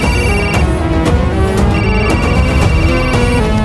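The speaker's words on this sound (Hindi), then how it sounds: "उसी का फोन आ रहा है सर।" A phone rings with an incoming call amid a busy, loud mix of tones and background sound in an action thriller scene, steady throughout with no talk.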